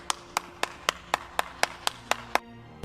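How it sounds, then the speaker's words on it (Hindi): Ten sharp, evenly spaced hand claps ring out one by one at a slow, steady beat, crisp and isolated with nothing else behind them, used as a clapping sound effect. "तालियां होनी चाहिए।"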